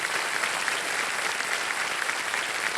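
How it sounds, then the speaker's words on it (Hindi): Studio audience applause on a quiz show set, a steady, dense and fairly loud wall of clapping throughout. "एक बार जोरदार तालियां बज जाएं"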